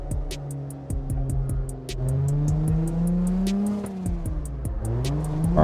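A car engine revs and shifts up and down in the CarX Drift arcade racing game, a loud close drone rising and falling in pitch with steady tire noise and no talk.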